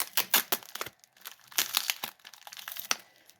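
Heavily taped AliExpress parcel packaging being unwrapped up close: loud bursts of crinkling plastic and ripping tape come in irregular rushes, with no talking.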